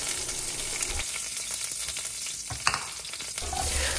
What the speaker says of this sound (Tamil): இப்போ இங்கே எண்ணெயில் கடுகு, அதுக்கப்புறம் கொஞ்சமாக வெந்தயம் போட்டுருக்கேன்